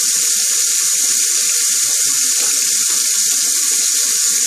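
A bathroom tap runs in a steady, even stream while a razor is rinsed during a shave, with water splashing continuously and nearby in a sink.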